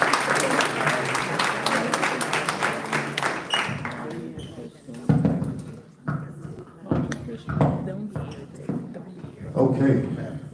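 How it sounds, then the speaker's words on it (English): An audience at a township candidates' event applauds with dense clapping that is strongest at the start and then thins into scattered claps, while a voice speaks over it. "Give a round of applause for the 2 gentlemen."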